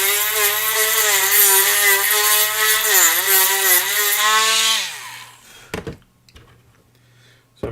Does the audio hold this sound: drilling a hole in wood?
yes